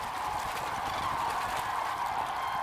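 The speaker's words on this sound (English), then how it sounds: "Cranes are gathering in their thousands on their journey from Scandinavia." Cranes resting at the Rederengsee lake in Mecklenburg-Vorpommern, a dense, continuous chorus of distant calls from a large flock gathered on the water, steady throughout with no voices.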